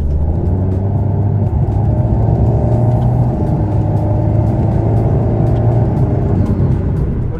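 Mid-rear-engined car in sport mode driving on the road, a loud steady engine drone with rumbling tyre and road noise up close, no voices.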